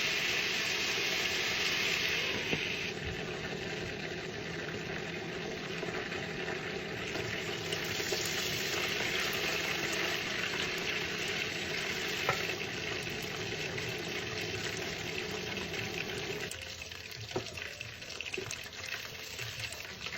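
Chicken pieces frying in a stainless steel pan for dinner, a continuous hissing sizzle that runs throughout, easing slightly near the end, with occasional faint clinks and no talking.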